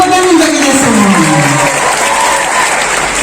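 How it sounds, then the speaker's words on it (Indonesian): Audience at a university engineering faculty orientation opening breaks into loud, sustained applause that fills the room evenly, with a speaking voice audible at the start. "Tepuk tangan untuk kita semua."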